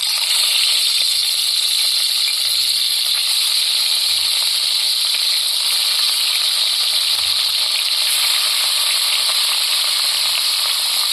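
Salted fish pieces dropped into hot oil in a wok for a Bengali fish curry sizzle loudly and steadily up close, a continuous bright spitting hiss with no talking.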